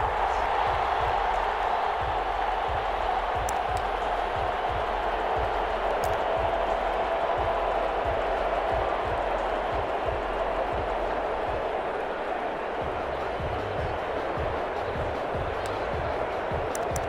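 Crowd cheering in the Madden NFL 21 video game during a Lions vs Chargers match, a continuous loud stadium roar with a rhythmic thumping underneath, steady throughout.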